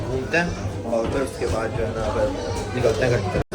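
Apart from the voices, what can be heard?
No everyday noises stand out.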